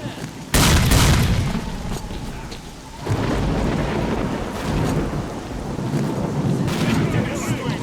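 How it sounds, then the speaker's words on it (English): Grenade blast in the video game S.T.A.L.K.E.R. Clear Sky: a sudden loud boom followed by a rolling rumble and a lingering noisy battlefield ambience. "Here, catch a grenade."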